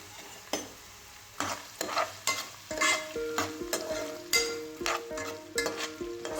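Chopped onions sauté in a pan for an egg masala curry. A spatula scrapes through them in repeated rhythmic strokes over a steady underlying sizzle, close and clear, with no speech.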